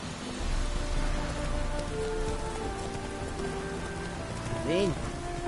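Rain falls steadily in Witcher 3, a soft continuous patter on surfaces under game music. A brief swooping tone sounds near the end.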